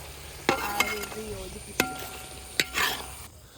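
Spoon stirring Kerala-style chicken curry gravy in a pan, a few distinct scraping knocks with a soft sizzle beneath, close and moderately loud with no talking.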